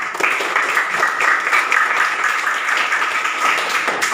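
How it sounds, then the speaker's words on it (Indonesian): A class of students claps for a classmate's father, a dense, even round of applause from a group filling the room for about four seconds. "Tepuk tangan untuk Ayah."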